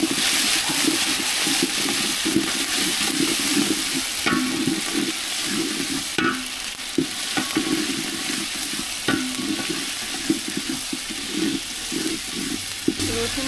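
Garlic and ginger paste frying with browned onions in a pan for chicken dum biryani, with a steady close sizzle and repeated scraping and stirring clatter throughout, no talk.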